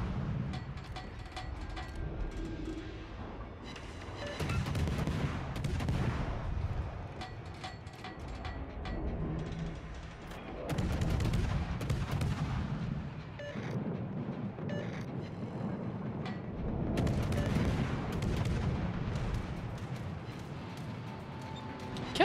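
Naval gunfire booms in the World of Warships video game: several heavy, rumbling salvos and distant explosions come in bursts over a continuous low background roar, with no talk heard.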